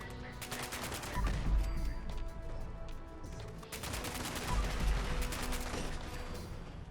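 Video game gunfire comes in two long automatic bursts of rapid, loud shots, each with deep booming impacts, separated by a brief lull.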